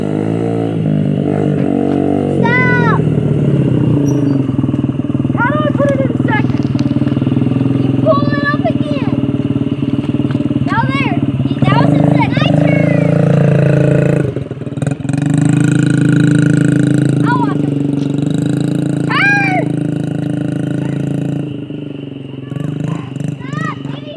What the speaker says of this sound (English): Avery's first motorcycle ride